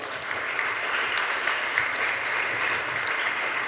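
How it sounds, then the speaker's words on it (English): Steady audience applause at the Goa History Quiz 2022, an inter-school quiz competition, as a high-school team is announced in sixth place; sustained, even clapping from a crowd lasting the whole moment without talk. "Let's give them a big round of applause."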